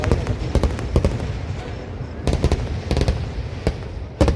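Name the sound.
fireworks bursting at Chelakkara temple festival, Thrissur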